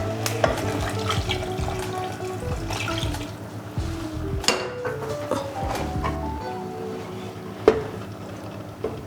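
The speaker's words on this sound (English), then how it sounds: "Then we'll add some water." Water poured into a pan of pre-cooked minced beef for lasagna, with liquid splashing and sizzling, clinks and utensil knocks, and a sharp tap near the end, all close and busy.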